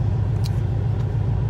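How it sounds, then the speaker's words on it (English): A car air conditioner runs steadily with a constant low hum and rumble, close and loud, with no talking. "I apologize about the noise on the AC"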